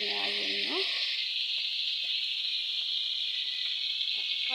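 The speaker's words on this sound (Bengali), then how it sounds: "কড়াইতে মাছগুলো ভেজে নিচ্ছি" Fish frying in oil in a wok give off a loud, steady sizzle that holds throughout, with brief clinks of stirring near the start.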